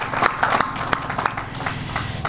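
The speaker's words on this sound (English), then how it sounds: "Again, I want to offer a round of applause to GMA's entire team" Crowd at an apartment ribbon cutting ceremony in Auburn Gresham claps for a building team, a steady, scattered patter of many hands at moderate distance with some sharper individual claps standing out.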